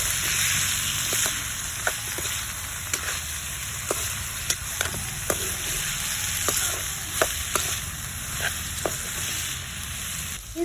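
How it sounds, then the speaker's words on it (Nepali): Food fries in a pan with salt and turmeric, giving a steady close sizzle broken by regular scraping strokes as it is stirred. "मसला राखेर पनि मजाले चलाएँ।"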